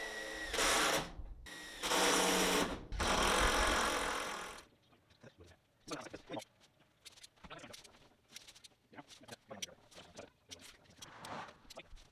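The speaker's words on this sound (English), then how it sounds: "then lock them in place with some self-tapping screws" A power driver screws self-tapping screws through a window frame into a steel shipping container, three loud whirring bursts in a row followed by quieter clinks and handling noises.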